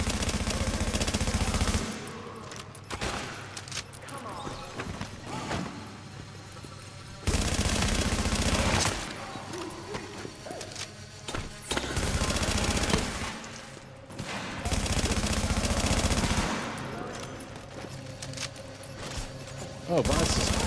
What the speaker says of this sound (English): Try to get me with his shotguns.